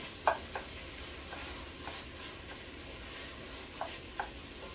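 Sausage browning in a pan for Cajun dirty rice gives a quiet, steady low sizzle, broken by a few soft scrapes and taps of stirring near the start and end. No one speaks.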